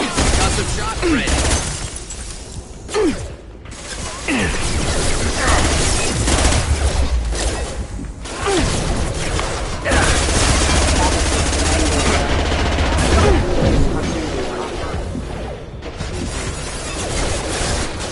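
Dense, continuous gunfire and combat noise from the video game Mass Effect 2 on PS4, loud and layered with bursts and mechanical effects, with a voice speaking over it.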